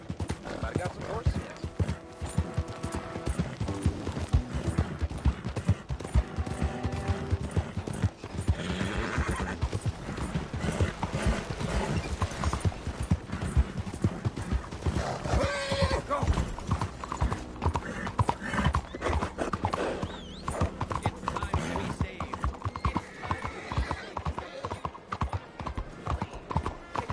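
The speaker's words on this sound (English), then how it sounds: "I got some horses." Horses in Red Dead Redemption 2 clop steadily across ground in a continuous hoof rhythm throughout, with occasional whinnies and neighs, while voices talk over the top.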